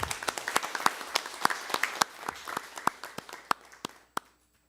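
An audience at a political debate forum on election law reform applauds to welcome the National Assembly Speaker: a small room of distinct, fairly sparse claps that thin out and stop, with a final lone clap.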